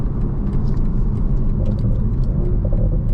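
A BMW Z4 M40i in Sport Plus mode accelerates, its engine a loud, steady, deep rumble that holds for the whole stretch with no voices over it.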